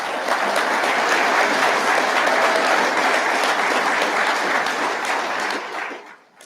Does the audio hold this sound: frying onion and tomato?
no